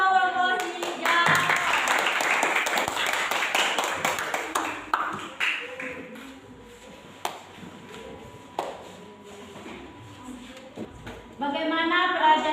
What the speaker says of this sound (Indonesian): tepuk tangan untuk kelompok hijau